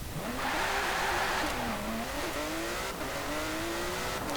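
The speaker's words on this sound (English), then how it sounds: "So it might not be the fastest accelerating car that we've had, but it's still no slouch." A 1960 Porsche 356 Outlaw RSR in the Forza Horizon racing game, its engine revving hard and climbing steadily in pitch through the gears, loud and continuous with a brief dip around a shift.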